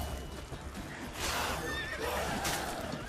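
A horse whinnies twice in The Witcher 3: Wild Hunt, high shrill neighs over a faint background bed, with soft hoof sounds beneath.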